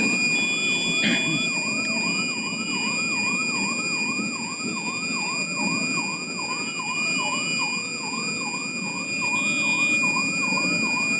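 An ambulance siren wails in a steady, rapidly repeating rise-and-fall cycle, loud and sustained, heard from a cab stopped at a city red light amid traffic rumble, with no voices.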